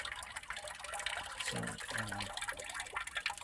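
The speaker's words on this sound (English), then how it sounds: "water will be going down through the ground pipe into this little chamber where air separates out and comes up here with water to, that drips out" Water trickles and drips from the outlet of a small homemade pulser pump model, with a steady wet splashing and a couple of fuller gurgling spurts. A voice briefly speaks at the start.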